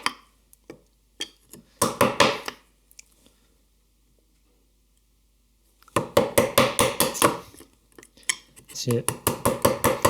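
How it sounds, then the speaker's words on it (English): A chisel chops a mortise into wood for a trestle table, giving rapid clusters of sharp tapping and knocking strikes, close and loud, in two bursts separated by a quiet gap, with a brief spoken word early on. "it's good to kind of angle the chisel into it a little bit as you go"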